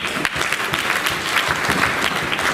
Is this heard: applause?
yes